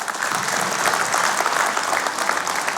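A crowd at a book launch event in Daegu applauds steadily and loudly, a dense wash of clapping that holds for about three seconds as a political committee chairman is welcomed to the stage.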